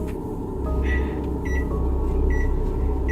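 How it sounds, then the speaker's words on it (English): Microwave oven humming steadily in a house, with a few short, faint beeps like button presses spaced across a few seconds over the hum. "Although no one appears to be touching it, the microwave sounds as if someone is pushing its buttons."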